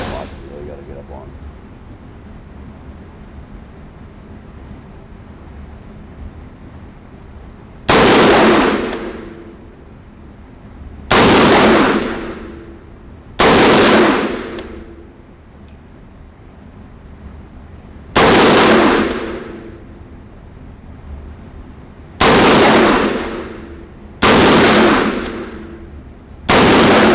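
A CZ Bren 2 rifle in 5.56x45mm fires unsuppressed at an outdoor range: six loud, sharp reports with decaying echoes, spaced a few seconds apart, with quiet background between shots.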